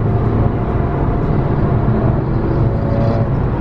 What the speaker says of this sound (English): you literally can hear his car from all over here